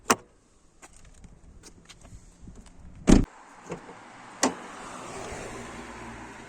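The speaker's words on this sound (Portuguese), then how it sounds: "Para abrir o capô, basta puxar aqui." A car hood release on a 2011 Fiat Punto Evo gives a sharp mechanical click and clunk near the middle, with a few lighter knocks around it and a soft rattle trailing afterward; no voices.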